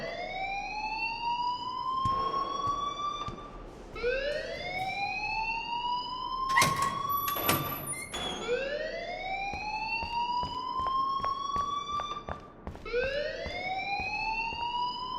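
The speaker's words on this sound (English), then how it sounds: "please turn off that alarm since that's your job" Rising, wailing electronic alarm repeats in long sweeping cycles, loud and continuous, inside a school in the game Life Is Strange, with a few clattering knocks partway through and no talking.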